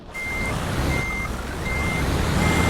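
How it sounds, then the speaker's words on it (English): A truck in Euro Truck Simulator 2 backs up, its reversing alarm sounding four evenly spaced long beeps over a loud, steady engine rumble, close and without talking. "let's reverse the truck."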